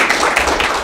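A brief burst of applause from a group at a meeting, dense clapping heard close for under a second with no voices over it.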